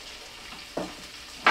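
Vegetables sauté in a pan on the stove as a trout dish is prepared, with a low sizzle under two sharp stirring or lid bursts, the second louder near the end.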